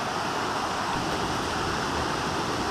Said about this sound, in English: This is a little waterfall and cascades on Forney Creek.